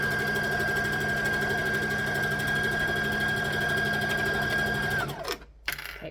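A sewing machine stitches fabric for a library bag, a steady close mechanical whir with a constant motor tone running for about five seconds before slowing and stopping, followed by a brief rustle.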